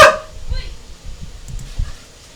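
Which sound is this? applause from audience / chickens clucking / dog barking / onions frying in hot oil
dog barking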